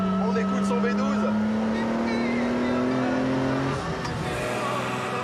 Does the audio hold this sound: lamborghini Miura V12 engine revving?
yes